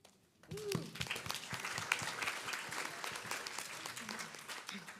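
A congregation at Shabbat services applauds an adult B'nai Mitzvah class of eight, steady dense clapping filling the room after a brief spoken word at the start, holding at a lively level throughout.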